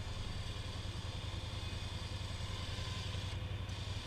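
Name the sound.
dirt bike engine idling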